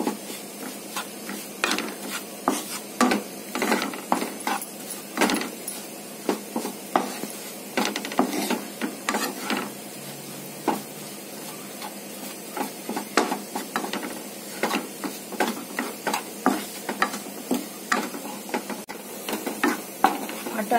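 A spoon stirs amaranth flour roasting in ghee in a pan: continuous close scraping and rubbing strokes in an irregular rhythm over a soft sizzle, with no talking.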